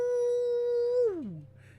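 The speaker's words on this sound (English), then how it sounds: "he howls" A character in the video game I Was a Teenage Exocolonist lets out a long sustained howl that holds steady, then bends sharply downward and trails off into a faint whimper.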